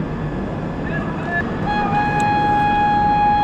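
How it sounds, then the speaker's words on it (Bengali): Howrah Lalkuan Express train pulling out of the station, a steady low rumble of the rolling coaches with a sustained horn-like tone rising in the second half, near and fairly loud. "দেখুন হাওড়া লালগঞ্জ এক্সপ্রেস, সেই ট্রেনটা এখন ছেড়ে দিল"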